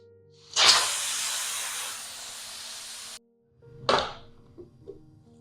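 Pressure cooker cooking chana dal vents steam in a loud hissing whistle lasting about two and a half seconds, stops abruptly, then a second short hiss burst follows with a few faint clinks.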